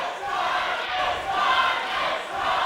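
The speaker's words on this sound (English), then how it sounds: "you've got most of the crowd chanting RJ" A wrestling crowd chants together in a rolling, rhythmic swell, filling the arena at a moderate distance.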